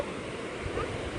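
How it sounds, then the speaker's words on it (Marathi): Fast-flowing water rushes in a steady, broadband wash, close and fairly loud, with a faint wind-like hiss and no clear speech over it. "बघ ना कसल्या स्पीडने पाणी आहे ना."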